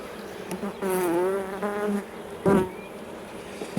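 Honeybees buzz loudly near the listener while a beehive is opened for inspection after a hard winter, with a wavering drone rising and falling as individual bees fly past.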